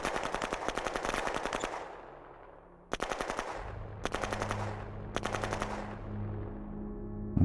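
Infantry gunfire in a turn-based wartime strategy game: several loud, rapid machine-gun bursts with short pauses between them and a low engine-like drone underneath, with no speech.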